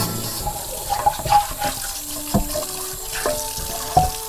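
Tap water streams steadily into a sink while a cast iron pan is scrubbed, with scattered clinks and scraping knocks over the constant rush, close by and without speech.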